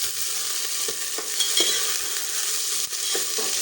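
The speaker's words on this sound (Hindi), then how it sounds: "अभी पहले भिंडी फ्राई करती हूँ" Okra fries in a pan, giving a steady close hiss and sizzle with occasional scraping stirs and light clinks, without any talking.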